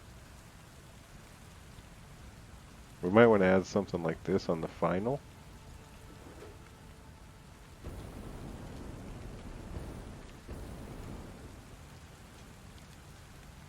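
Rain in the video game Satisfactory gives a soft, steady patter throughout, with faint low rumbles later on. A person speaks briefly over it.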